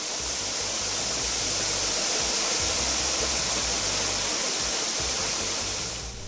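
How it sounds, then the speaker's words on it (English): A waterfall fed by the watershed southwest of the Efwalaye ridges gives a loud, continuous broadband roar of falling water. The roar holds steady for several seconds and no voices are heard. "The waterfall, which takes its source from the watershed above it, southwest of the Efwalaye ridges, was first discovered around 1140"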